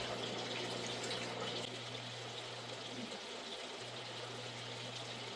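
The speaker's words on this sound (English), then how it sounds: "I am going to put them all into this fresh water here, try and rinse off any of the debris and any of the hitchhikers" Aquatic plants being rinsed in a container of fresh water, a soft, continuous pouring and trickling with gentle splashes, close by and fairly quiet, with a low steady hum underneath.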